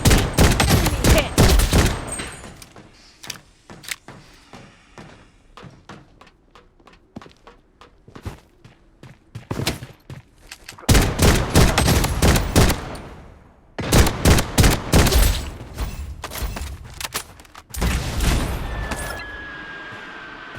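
Bursts of automatic gunfire from the shooter game Blood Strike, loud rapid volleys broken by quiet gaps, with heavy clusters late in the passage.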